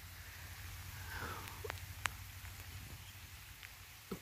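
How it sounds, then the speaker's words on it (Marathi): Light rain has just begun falling outside a roadside dhaba in Kolhapur, a faint, even patter with a few soft drips and taps, fairly quiet and without talk. "आत्ता पाऊस सुरुवात झाली आहे"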